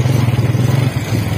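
A motorcycle engine carries riders down a steep route toward a remote village in the Galiyat hills of Hazara, Pakistan, holding a steady, loud, low drone throughout with a slight dip partway.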